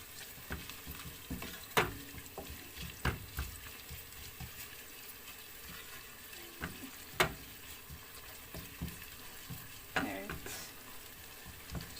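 Tomato paste sizzles steadily in a pan with scattered scrapes and taps of a spoon stirring, a few sharper clicks standing out over the frying hiss.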